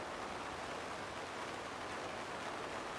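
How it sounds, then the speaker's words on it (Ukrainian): Steady rain falling, a dense even hiss of drops on surfaces, soft and continuous with no talking. "Чуєте, йде дощ"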